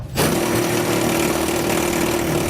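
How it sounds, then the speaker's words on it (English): A power drill with a 7/16 inch bit enlarges a bolt hole while helper springs are fitted to a 2017 Ford, starting abruptly and then holding a loud, steady, close grinding whine. "I'm going to come back with that final 7/16 inch drill bit and enlarge that hole"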